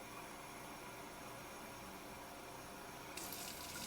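Water runs steadily from a tap, measured out cup by cup for soft pretzel dough, a continuous rushing pour that brightens and sharpens near the end, with no one speaking.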